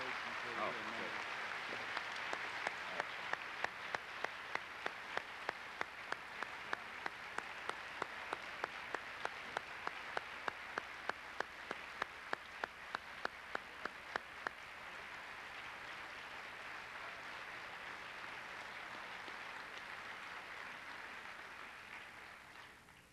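A lecture hall audience gives sustained applause after a talk by a senator, with a dense wash of clapping and sharp individual claps standing out, lasting over twenty seconds before fading.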